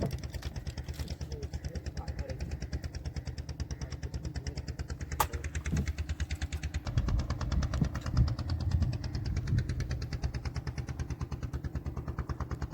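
Steady, rhythmic putter of a small fishing boat's engine on Sundarbans waters, close and continuous, with brief voices over it.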